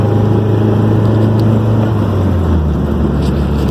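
A 1979 Toyota Corolla Wagon engine idles steadily after an MSD ignition install, a loud continuous low drone with a faint pitch drift, no voices over it.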